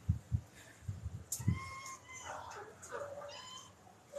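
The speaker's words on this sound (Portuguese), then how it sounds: "Olha lá ela miando com ele." A female cat meows several times in the background, rising and falling calls over low handling thumps and a person speaking nearby, during a pet parrot's bath.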